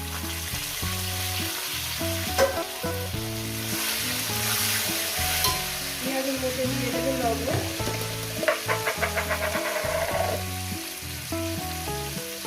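Whole garam masala, cumin and bay leaves crackle in hot oil before onions go in for a Bengali mutton curry, a dense continuous sizzle with occasional stirring clatter and a background music bed.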